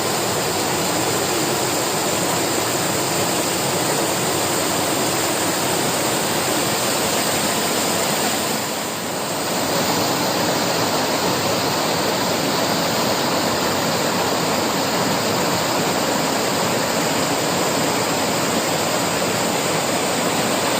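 River water flows steadily where a horse is being bathed, a dense, even rushing wash that stays constant and loud, with a brief dip partway through and no voices.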